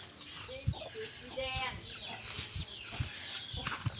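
Chickens cluck around a rural Thai home, with short, scattered calls and brief bursts at moderate distance over an open outdoor background.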